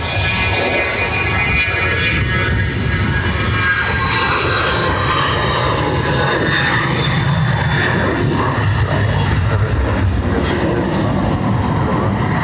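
KLM jet airliner engines at Dublin Airport, a steady loud broadband roar with a high whine that holds throughout, close and continuous with no talk.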